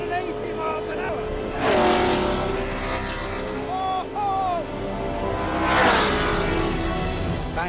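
Lotus 25 Formula 1 race car with a 1.5 litre engine, a loud high-revving engine note sweeping past twice with rising and falling pitch, continuous throughout with a voice speaking over it.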